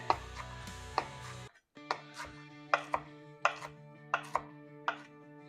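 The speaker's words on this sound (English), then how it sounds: "tear that off, and we'll chop that up. Just coarsely." A knife chops cilantro and onion coarsely on a board for carnitas taco topping, giving a string of crisp, evenly spaced close-up knocks with brief pauses and no voices.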